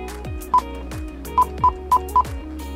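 An Android multimedia player fitted in a Peugeot 307 sounds five short, clear dialing beeps in an irregular rhythm over a steady low hum of background noise.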